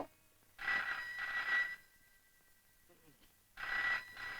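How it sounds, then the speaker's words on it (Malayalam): A telephone bell rings in two bursts of rapid trilling, with a quiet gap between them. The rings are fairly close and loud in an otherwise hushed room. "ആരോ വിളിക്കുന്നു. വിളിച്ചോട്ടെ. ഫോൺ എടുക്കുന്നേ."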